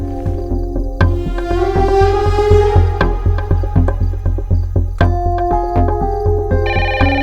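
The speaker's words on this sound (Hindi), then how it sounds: "फोन क्यों नहीं पिक कर रहे हो? कब से बज रहा है?" An electronic phone ringtone plays on its own, a repeating melodic tone with a steady pulsing beat, loud and close.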